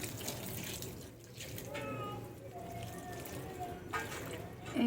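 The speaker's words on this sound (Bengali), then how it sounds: "এই যে গাছে জল দিয়েছি" Water poured onto potted plants, including coriander, giving a running, splashing flow with some sloshing while someone talks over it.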